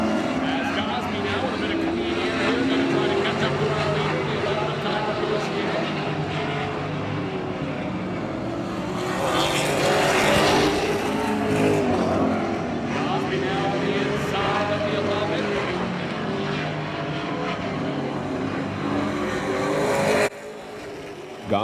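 Pro stock race cars roar around the oval at Oyster Bed Speedway, a steady dense engine drone that swells as cars pass close, with a commentator talking over it throughout.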